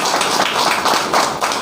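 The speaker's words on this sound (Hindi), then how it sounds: "तो एक बार जोरदार ताली" A gathering at a family business meeting breaks into dense, loud clapping that keeps going steadily through the moment, many hands blending into one continuous wash of sound with no pauses.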